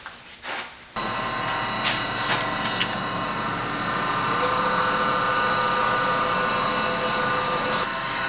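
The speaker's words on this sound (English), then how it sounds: "I'm going to go sharpen my tool" A woodturning tool is sharpened on a grinder, which gives a loud, steady whine with a bright metallic grinding edge that starts abruptly and runs on continuously, with no voices.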